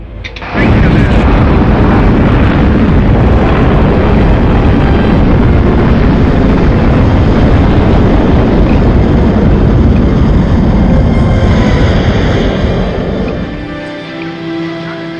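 A Jupiter-C rocket launching the Explorer 1 satellite roars continuously at full, distorted loudness, a dense rumbling blast that holds steady before tapering off near the end.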